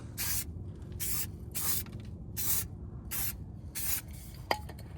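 An aerosol can sprays paint onto car brake calipers and a rotor in six steady hissing bursts of about half a second each, close by over a low background hum, ending with a small click.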